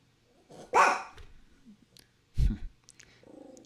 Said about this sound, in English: Or the sound of my dog barking.